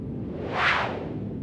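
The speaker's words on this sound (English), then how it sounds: "Let's make an ambience from the white noise," Soft wash of filtered noise that swells brighter in the middle, then settles back to a dull, steady hiss, like an airy ambient whoosh.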